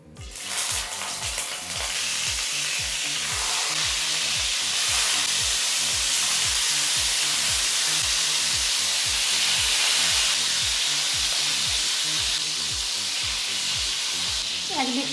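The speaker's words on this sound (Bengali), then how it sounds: "তেল থেকে ধোঁয়া উঠতে শুরু করেছে। এখন মাছগুলো দিয়ে দেব।" Pieces of katla fish dropped into smoking-hot mustard oil sizzle loudly and continuously in the pan, a dense close crackle with steady spitting pops throughout, no voices.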